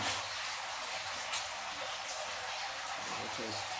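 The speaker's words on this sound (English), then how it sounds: "and the water is coming gradually." Water from a fish tank siphon, used to suck dirt off the bottom of a catfish fry tank, hisses and trickles steadily into a container, with a voice talking briefly over it.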